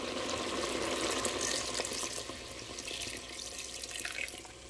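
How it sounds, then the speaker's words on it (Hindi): Two cups of water pour steadily into a pot of beef korma, where the meat is already mixed with spices, giving a continuous close splashing rush with no talk. "अब इसमें मैं ऐड करूँगी 2 कप पानी"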